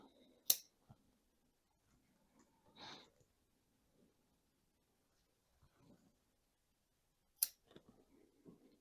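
Scissors snip branches while a dwarf jade bonsai is pruned, with two sharp clicks several seconds apart and a soft rustle between, faint and close in a quiet room.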